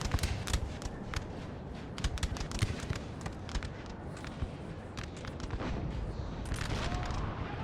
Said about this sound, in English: Artillery is going to try to help us out here.